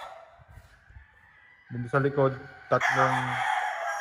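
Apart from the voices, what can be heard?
gamecock roosters crowing in backyard range area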